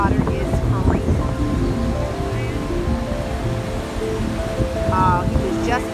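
Waves breaking on a beach on a cold, windy day where boogie boarders ride the surf, a continuous loud wash of surf with wind buffeting the microphone and faint distant voices.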